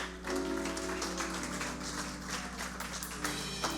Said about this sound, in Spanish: Denle un fuerte aplauso al Rey de Gloria.